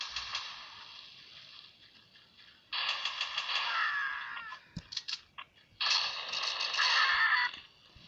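Gunfire in the mobile shooter game Mini Militia comes as bursts of dense rapid shots, separated by brief quieter gaps and a few single cracks, steady and fairly loud with no talking over it.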